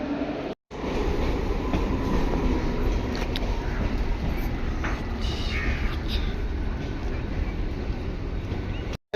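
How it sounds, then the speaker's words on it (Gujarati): A Mumbai local train runs through the station, its loud continuous rumble and rattling rail noise filling the scene up close, with squeals and clatter rising above it. "હવે આપણી ટ્રેન આવવાની છે."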